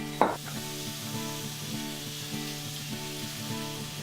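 Shrimp and scallions sizzle steadily in a pan, a continuous close frying hiss with a brief sharp clatter near the start, no voices over it.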